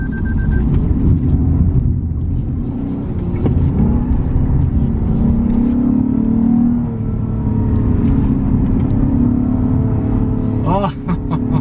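A Lexus IS350 F-Sport engine revs on a mountain climb, a loud, continuous throaty drone rising and holding under acceleration, with road rumble and someone talking over it.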